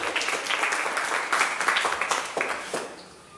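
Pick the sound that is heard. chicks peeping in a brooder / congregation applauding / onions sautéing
congregation applauding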